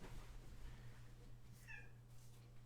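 A cat meows once after jumping on a desk, a short faint whiny cry over a low steady hum in a quiet room.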